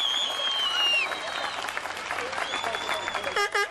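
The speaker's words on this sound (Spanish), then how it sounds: "mire cómo lo aplauden. Un aplauso para este campeón nacional." A crowd applauds a national champion at a public event in Mosquera, Cundinamarca, with sustained clapping throughout and a voice speaking over it briefly.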